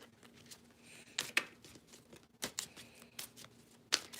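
Tarot cards being shuffled by hand, soft riffling flutters and sharp snaps in irregular bursts, close but quiet, with no talk.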